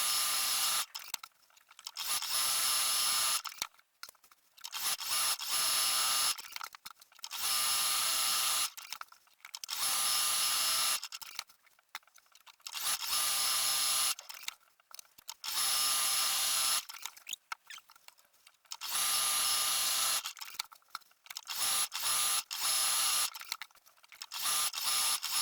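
An electric sewing machine quilts drawn lines across a tote bag panel, buzzing loud and close in repeated bursts of a few seconds each, with short quiet gaps between runs.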